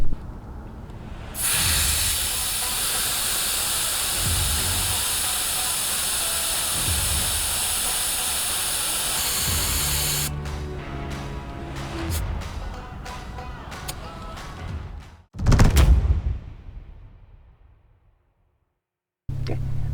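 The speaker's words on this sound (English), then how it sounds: "using a normal pressure gauge and then a stick that you use to deflate it" Air hissing from a car tyre being let down with a stick pushed into the valve, ahead of off-road driving: a loud, steady hiss lasting about nine seconds, then scattered shorter bursts and one final sharp release before it stops.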